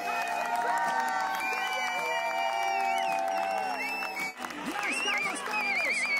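A crowd welcomes musicians arriving among the waiting people, with cheering, shouting voices and scattered clapping rising and falling in a lively, sustained din.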